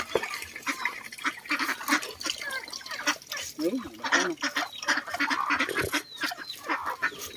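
Farmyard ducks, geese and chickens quack, honk and cluck close by in a busy chorus, with a person talking briefly over the birds.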